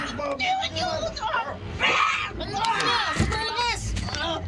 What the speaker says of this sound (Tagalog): Galing sa bahay ang sigawan na yun.